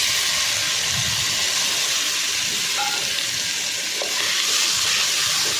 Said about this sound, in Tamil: அதை இதோடு சேர்த்து நல்லா வதக்கி விடுங்க.